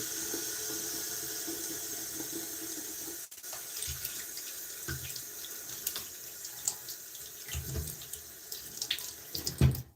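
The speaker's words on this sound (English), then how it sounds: "So, wash my fingers." A bathroom tap runs steadily while fingers are washed beneath it, a continuous close hiss of water that turns uneven and splashy partway through, with small knocks and splashes near the end.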